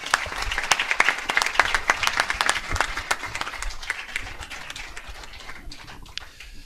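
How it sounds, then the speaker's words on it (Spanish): An audience at a book presentation claps steadily, dense applause that stays fairly even before thinning slightly toward the end. "Pido un gran aplauso para Jesús Ángel Rojo"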